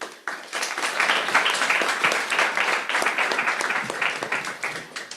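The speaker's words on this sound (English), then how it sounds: "let's give another round of applause" Applause from an audience after a talk at a scientific conference session on collection management systems, dense continuous clapping that starts abruptly and holds steady for about five seconds.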